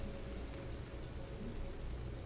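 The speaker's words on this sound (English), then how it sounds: "what's that crackling sound? Is that rain?" Steady crackling rain patters on the surface of a purple alien planet in No Man's Sky, a dense, even hiss with no voices over it.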